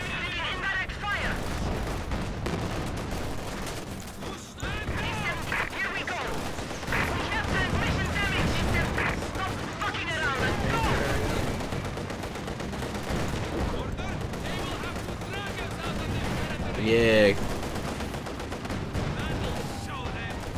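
Artillery shelling and gunfire in the World War II strategy game Company of Heroes 2, a dense, continuous barrage of shots and blasts with occasional louder impacts, mixed under game voices and talk.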